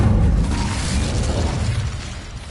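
Incendio fire spell cast in the video game Hogwarts Legacy, a loud dense whooshing roar of flame with a rumbling low end that holds steady and eases slightly near the end, no voices.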